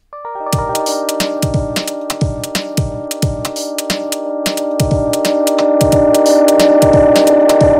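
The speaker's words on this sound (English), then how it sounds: "I've automated the feedback on echo" A synth chord with Ableton Echo, feedback automated in Space Echo style: rhythmic repeating echoes pulse steadily, then blur into a rising, swelling wash of sustained tone as the feedback builds, with no voices.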